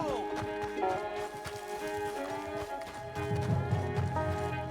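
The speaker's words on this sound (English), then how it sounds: "My horse ran away." A horse in Red Dead Redemption 2 bolts off, its hoofbeats clip-clopping in a quick rhythm amid game music and ambience, with voices talking over it.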